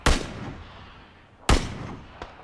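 Two loud booming gunshots from a shooter video game, about a second and a half apart, each ringing out with a long echoing tail.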